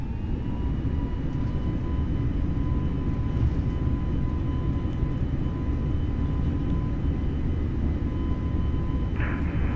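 An A32NX airliner taking off on runway 27 in Microsoft Flight Simulator 2020, a steady, loud engine roar with a faint whine held throughout, no talk heard.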